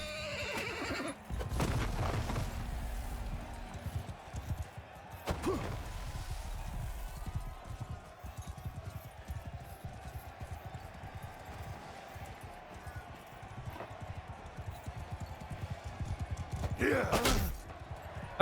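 Horses in Mount & Blade II: Bannerlord whinny loudly at intervals over a busy din of galloping hoofbeats and battle clatter, with a sharp neigh near the end.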